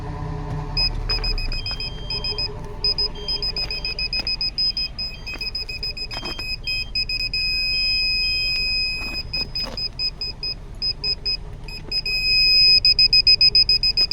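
A car's reverse parking sensor buzzer beeps in rapid repeated bursts, loud and close, the pattern speeding up and pausing as the sensors detect obstacles, with the engine running underneath and no speech.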